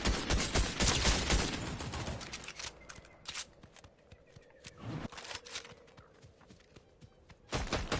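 Gunfire erupts in a Fortnite match, a dense burst of rapid shots at the start, then scattered single cracks and footsteps, with another volley closing the clip.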